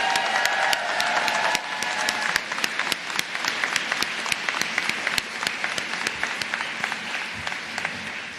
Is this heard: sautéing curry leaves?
no